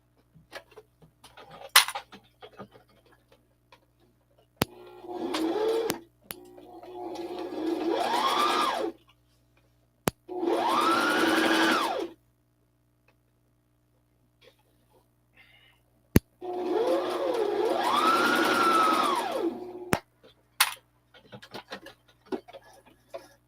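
A sewing machine stitches fabric in several bursts of a few seconds each, separated by quiet pauses and sharp clicks, with the whirring motor rising and falling in pitch and recorded close.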